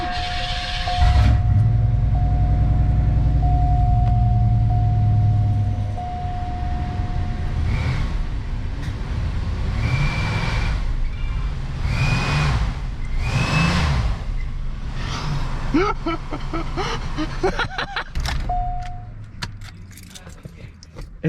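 Car exhaust fitted with a cheap aftermarket turbo whistle, the engine revving in a series of blips, each rise bringing a thin climbing whistle tone over the exhaust rumble, with a few faint background sounds.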